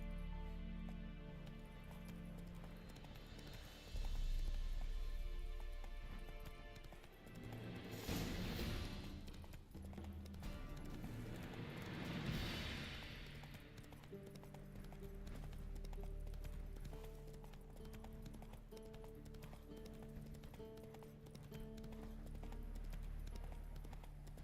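Horse hooves clip-clop steadily on the ground in The Witcher 3: Wild Hunt, a moderate rhythmic plodding heard alongside background game music, with a louder whoosh-like burst midway.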